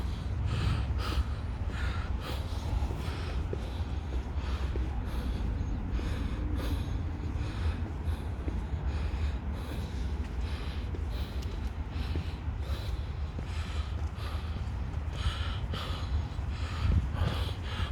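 A person pants heavily while hiking uphill, with loud, steady, rhythmic gasping breaths close to the microphone throughout and no talking.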